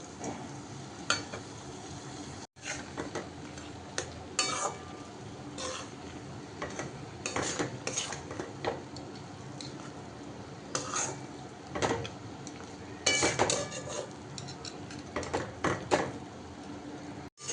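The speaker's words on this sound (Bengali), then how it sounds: "এবার ম্যাশ করে রাখা আলুটা এতে দিয়ে ভালো করে মিশিয়ে নেব।" A spatula scrapes and knocks against a kadai as mashed potato is stirred into a spicy filling, giving irregular clatters and scraping strokes over a faint sizzle, fairly quiet and close, with one brief sharp break partway through.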